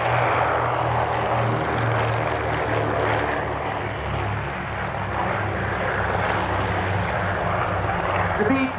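A WWII-era propeller aircraft, a B-25 Mitchell, flies past at a 1994 air show in Clark County, Indiana, its steady engine drone loud and continuous throughout, with a voice faintly present underneath.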